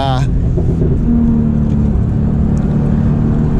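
A turbocharged Porsche 911 pulls hard from inside the cabin, a loud, dense engine drone with a rising tone and a brief higher whine near the start, while a voice speaks over it.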